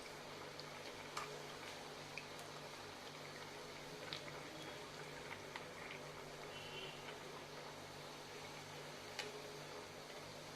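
Urad dal vada fry in hot oil with a faint, steady bubbling hiss and scattered soft ticks and pops, quiet throughout with no talking.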